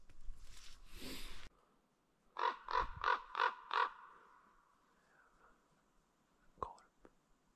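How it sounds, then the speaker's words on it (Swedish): Raven calling in a forest during a Swedish moose hunt with a Jämthund, a run of five hoarse croaks at moderate distance, with a brief whispered voice beforehand and a faint click afterward. "Korp."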